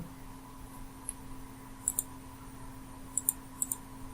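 Several sharp computer mouse clicks while drafting in AutoCAD, sparse and close, including quick double clicks, over a quiet steady room hum with no talking.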